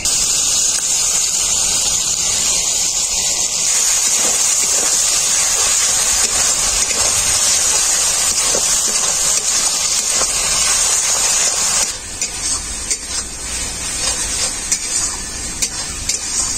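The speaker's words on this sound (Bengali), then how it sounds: "টমেটো পেস্টটাকেও আমি খুব ভালো করে ভেজে নিয়েছি" Tomato paste frying in a pan for a chicken dish, a steady loud sizzle and hiss with occasional stirring scrapes, the sizzle easing slightly toward the end.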